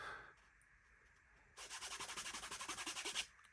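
A Shokz headphone carrying pouch being handled up close: after quiet light rustling, a loud, rapid run of about fifteen even rasping strokes scrapes along for over a second, then stops.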